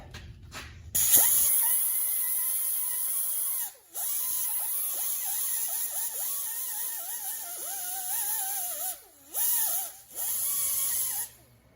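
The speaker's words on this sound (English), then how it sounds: "And we'll clean off this hub real quick. With the angle grinder." An angle grinder cleans rust off a car wheel hub while replacing brake pads and rotors on an Acura TSX or Honda Accord, a loud sustained high whine with pitch dips as it bites, briefly stopping and restarting.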